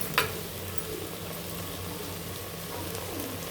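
Onions with green chillies and a little salt frying in a pan for egg curry, giving a soft, steady bubbling sizzle with a brief clink near the start.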